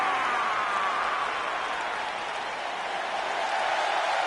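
Crowd applause from a wrestling arena in the WWE 2K19 video game, a steady, dense wash of clapping filling the whole stretch at moderate loudness, with faint cheering blended in.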